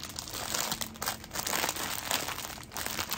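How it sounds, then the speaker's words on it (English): Plastic packaging from a Temu haul item crinkles close up, a continuous rustling and crackling that lasts throughout with brief pauses, alone without talk. "I know you don't like the crinkling."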